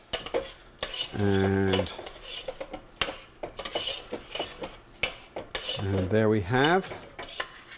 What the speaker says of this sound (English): So stir in the cheese